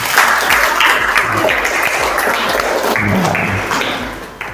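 A class of schoolchildren clapping together after a group presentation, a loud, close, steady round of many hands that fades slightly near the end.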